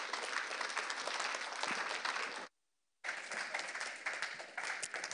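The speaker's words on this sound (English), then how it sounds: "Folks, she needs a louder applause, please." A symposium audience applauding after a talk, dense steady clapping from a crowd with a short silent gap in the middle, fairly distant and even, with no voices over it.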